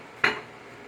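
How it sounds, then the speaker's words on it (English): A spoon stirs a pot of vegan Louisiana gumbo, giving one short, sharp metallic clink against the pot at close range, followed by quiet room noise. "Stir it up and taste it for salt"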